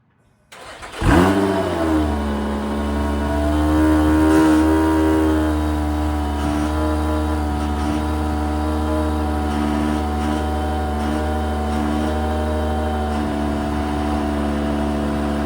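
A 2024 Lotus Emira sports car engine starts and settles into a loud, steady idle up close, with a deep low rumble that holds for several seconds.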